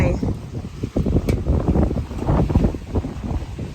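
Cold wind gusts outdoors in the Thai countryside, rumbling and buffeting the microphone in uneven surges, with muffled voices underneath.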